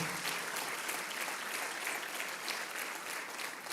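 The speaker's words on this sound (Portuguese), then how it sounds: "Dê um aplauso ao Senhor por essas vidas que estão nos visitando" A church congregation claps together in sustained, dense applause, many hands at once, steady and even for several seconds with no voices standing out.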